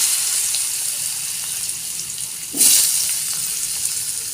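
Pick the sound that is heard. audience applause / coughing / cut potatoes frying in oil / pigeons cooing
cut potatoes frying in oil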